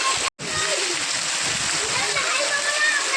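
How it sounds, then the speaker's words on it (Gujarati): Heavy rain floods a street as two boys play and bathe in it, with continuous loud splashing and rushing water, a brief dropout near the start, and voices mixed in. "બહુ વરસાદ આવી ગયો છે આજ અને આ બે ભાઈ નાવા જાય છે"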